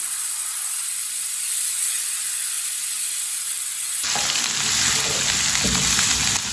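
Spices sizzle and fry without water in a hot pan over medium heat for bitter gourd curry, a steady hiss growing louder and fuller midway with stirring scrapes.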